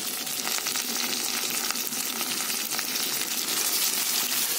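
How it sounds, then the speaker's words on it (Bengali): Chicken pieces fry in a pan with onions, giving off a loud, steady sizzle with crackling spits and occasional stirring scrapes, and no one talks. "অল্প করে ভাজা ভাজা করে নেব।"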